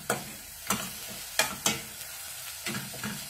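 Chopped chives and parsley frying in a pan for farofa, a soft steady sizzle broken by several sharp scraping stirs of a utensil against the pan, close and moderately loud.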